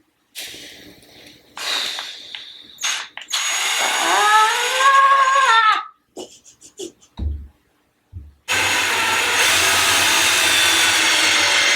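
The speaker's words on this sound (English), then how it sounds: "I'm just gonna go for it and drill this hole." A power drill whirs into the wood of a dresser, its pitch rising and falling under load, then stops briefly before a loud sustained drilling burst resumes.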